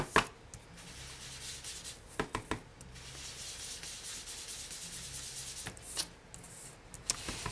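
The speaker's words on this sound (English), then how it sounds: "I'm just using my crumb cake and a sponge to add some sponging around the edges of each square, or actually rectangle" A sponge dabs Crumb Cake ink around the edges of small Stampin' Up cardstock rectangles, making soft, faint rubbing and scuffing sounds, close and intermittent, with a few sharper taps and no talking.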